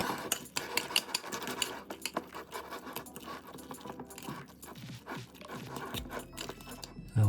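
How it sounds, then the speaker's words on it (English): Sweet potato pie filling is hand-mixed in a bowl, with repeated close scraping and clinking of a utensil against the bowl that forms an irregular stirring rhythm, moderately loud and not covered by any voice. "A little bit more mixing."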